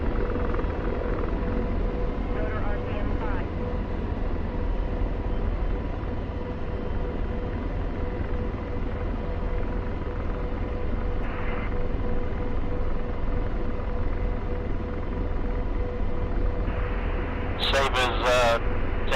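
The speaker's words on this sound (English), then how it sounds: "waiting for the other helicopters to catch up." Military helicopters flying in the combat simulator DCS World, a continuous rotor and engine drone holding steady throughout, with radio chatter and short electronic beeps over the top near the end.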